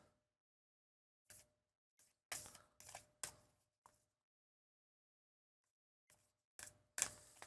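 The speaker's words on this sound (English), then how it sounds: "Overhand shuffle both halves." A split tarot card deck is overhand shuffled in two halves, giving a few quiet, close bursts of riffling and card slaps separated by silence.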